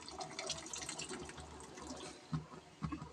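Chickpeas tip into a pot together with their soaking water, a brief splashing pour followed by a couple of soft plops.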